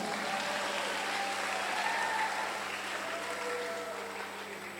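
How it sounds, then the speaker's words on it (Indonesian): A school talk show audience at SMAN 2 Batu claps steadily for the two guest speakers, a continuous, fairly even wash of applause with a faint hum underneath and no speech. "Kalau begitu, tepuk tangan untuk narasumber berdua."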